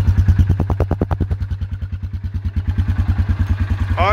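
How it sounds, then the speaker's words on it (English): A shaft-driven Yamaha 4x4 ATV engine, automatic with some rust, runs at a steady idle, close and loud, with a rhythmic low thumping pulse throughout and a brief higher squeal near the end. "The motor sounds really good."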